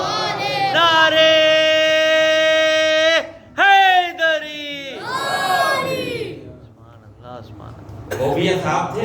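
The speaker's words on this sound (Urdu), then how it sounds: "اللہم صلی علی محمد نعرے" A crowd at a Shia majlis chants religious slogans in loud, drawn-out unison calls that rise and fall between shouted responses, with a short pause and then another swell of voices.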